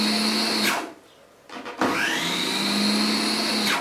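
An OSKAR food processor runs at speed 1 with a loud, steady motor whine that cuts out briefly, gives a short clattering restart, then spins back up to a sustained hum.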